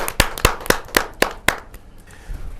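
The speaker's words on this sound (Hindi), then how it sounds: "जोरदार तालियों के साथ" Six sharp, evenly spaced hand claps ring out in a quick rhythm at a Hindi poetry gathering (kavi sammelan), then stop, leaving a quiet room.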